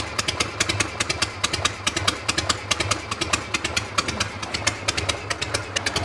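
Harley-Davidson motorcycle engine idling with the idle turned down, a steady close-up lumpy rhythm of evenly spaced sharp firing pulses over a low rumble, continuous with no talk.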